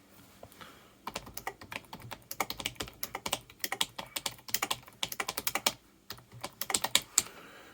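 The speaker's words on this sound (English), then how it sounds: "Much softer keystrokes." Fairly quiet, soft keystrokes on a repaired Rock Candy keyboard come in irregular rapid bursts of clicks with brief pauses, close up with no talking.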